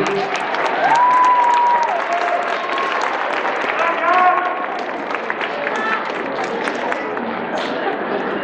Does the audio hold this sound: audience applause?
yes